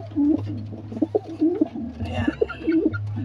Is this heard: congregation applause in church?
no